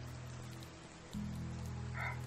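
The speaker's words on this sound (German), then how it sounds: "Kann bitte mal der Regen aufhören?" Rain falls in the medieval survival game Medieval Dynasty as a soft, steady hiss that stays faint throughout and swells slightly partway through.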